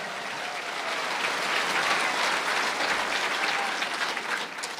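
A church congregation breaks into loud, sustained applause that swells toward the middle and then holds steady as a broad wash of clapping.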